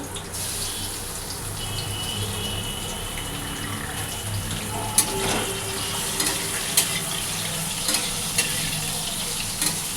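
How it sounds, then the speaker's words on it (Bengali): Prawns frying in oil with tempering spices, giving a steady close sizzle with a few sharp clicks and light stirring throughout. "এই চিংড়ি মাছটা আমি দিয়ে দিলাম। চিংড়ি মাছটা একদম কম ভাজবো।"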